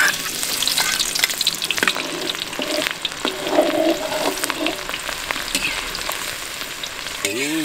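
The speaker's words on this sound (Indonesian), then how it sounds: "kita goreng bawang dulu nih. Bikin goreng bawang" Shallots sizzle and crackle steadily in hot frying oil for fried onions, cooked for a Tasikmalaya-style chicken soto; the frying hiss is continuous and close, with light stirring and no talking.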